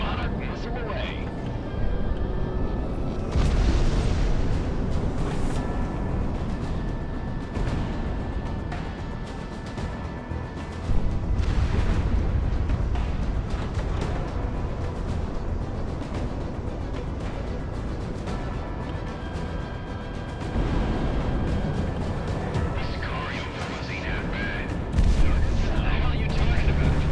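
Missile launches and explosions from the aerial combat video game Project Wingman, with continuous loud jet and weapon rumble, several heavier booming bursts and low roaring swells, under a speaking voice.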